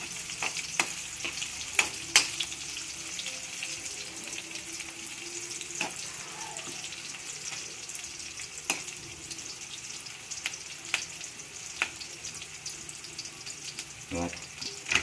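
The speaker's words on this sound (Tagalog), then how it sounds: "Lutuin lang natin yung sibuyas." Onion sizzles and fries in a pan with steady crackling, broken by occasional scrapes and clinks of a utensil stirring, all heard up close.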